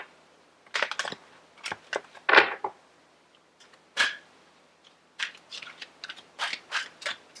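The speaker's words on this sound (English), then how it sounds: "the cards are really big, and so I always take a long time to shuffle them" Crisp papery snaps and flicks come in irregular bursts with short quiet gaps as large tarot cards are shuffled close by.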